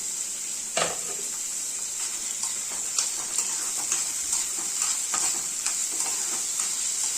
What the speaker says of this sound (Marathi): आता हा कांदा जो आहे तो व्यवस्थित आपल्याला फ्राय करून घ्यायचा आहे तेलामध्ये